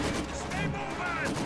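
Mortar barrage in the Company of Heroes 2 strategy game: a brief cluster of heavy booming explosions and rumbling impacts overlapping in quick succession, loud and dense throughout.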